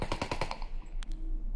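A close, loud burst of automatic rifle fire from a video game, about six rapid shots in quick succession before cutting off into a brief quieter tail.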